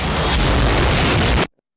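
A grease truck explodes in a cartoon, a loud, dense roaring blast that sustains for over a second and then cuts off abruptly into silence.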